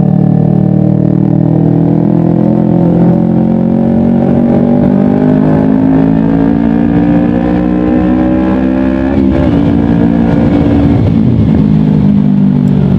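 A Kawasaki Ninja 250 FI twin fitted with a Pro Liner exhaust revs hard to high RPM, a loud, close, continuous engine scream with rising harmonics, a brief dip near the end, then climbing again.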